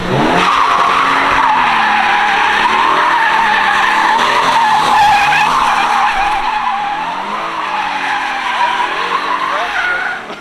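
A car drifting with loud, sustained tire squeal and a revving engine, close and continuous, fading slightly near the end.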